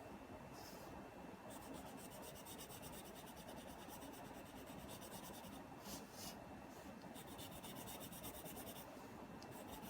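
A pencil rubs back and forth across paper to lay down shading. The scratchy strokes are faint and steady and continue without break, with no voice over them.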